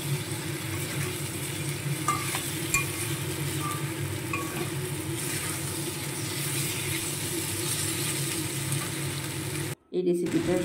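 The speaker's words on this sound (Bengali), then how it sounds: "দিয়ে এবারও নেড়ে চেড়ে খুব সুন্দর করে কষে নেব।" Fried cauliflower and potatoes being stirred in a pan for a Bengali vegetable curry with paneer, giving a steady, dense sizzle with faint scraping that runs without a break before cutting out briefly near the end.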